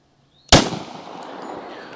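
A single loud, sharp gunshot from a 5-inch-barrel .45 ACP pistol firing Winchester Silvertip ammunition, an abrupt crack followed by a long, decaying outdoor reverberation with no talk.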